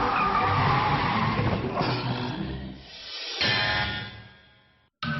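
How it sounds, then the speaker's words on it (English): A car at speed oversteers and skids during driving training, tyres squealing loudly and continuously with engine noise underneath, the screech wavering before fading and breaking off. "This time, Tegan gets up to speed, then oversteers"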